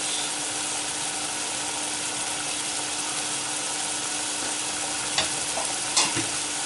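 A pot of lentils with turmeric sizzles steadily up close, with a couple of brief spoon scrapes from stirring near the end and no voices.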